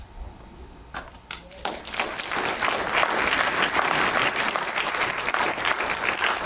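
A few scattered claps build into full audience applause at an interfaith gathering, growing louder and thicker and then holding steady.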